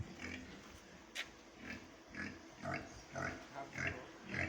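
Healthy pigs, including Durocs, grunt repeatedly in a large piggery on an integrated farm, a steady run of close, moderately loud snorts and oinks in uneven rhythm.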